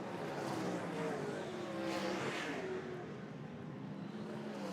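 Sprint cars race on a dirt track at the New Zealand sprintcar Grand Prix, their engines roaring in a dense overlapping blare as several cars sweep past, loud and continuous.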